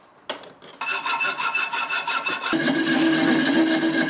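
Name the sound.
sawing out knife shape in vise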